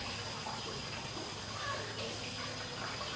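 Water gushes from an opened tap in a steady, even rush that fills the whole moment without a break.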